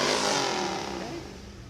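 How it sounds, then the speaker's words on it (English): A Harley-Davidson motorcycle engine revs hard at a small-town drag cruise event, a loud throaty roar that peaks and then slowly winds down over under two seconds. "Harley Davidson making some noise."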